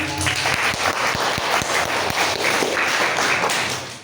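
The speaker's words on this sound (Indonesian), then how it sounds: "Tepuk tangan dong" Steady audience applause at a public health outreach session for Islamic boarding school students, loud continuous clapping filling the whole four seconds with a few sharper individual claps standing out.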